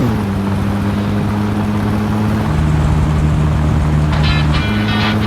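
Loud, continuous engine drone from a car in the My Summer Car video game after a valve adjustment, pulling steadily with a constant low hum and a slight pitch shift midway, with no talk over it.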